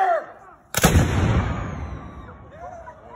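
A cannon fires at Port Hudson with a single sharp, loud boom that rolls off into a long fading echo, preceded by a brief voice and some low chatter, with people faintly talking as the rumble dies away.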